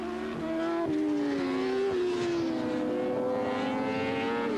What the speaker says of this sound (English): the Ducati that Williams is on, bellowing its way around the Cadwell Park circuit